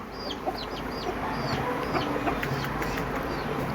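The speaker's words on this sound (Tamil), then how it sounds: "இது நம்ம செஞ்சேவல் அரிசி சாப்பிடுது" Peruvidai country chickens pecking rice in a farm coop, with soft clucks and chirps scattered over steady background noise, moderately close and without talk.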